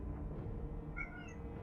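Indoors, a grumpy female pet cat lets out a brief meow demanding to be fed, one short cry over a constant low hum.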